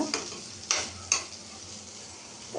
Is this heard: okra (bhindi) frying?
yes